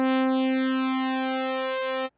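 A phasey sawtooth synth patch from the GR8 plugin holds one sustained note with a slow sweeping phase shimmer, steady and clear, then cuts off abruptly after about two seconds.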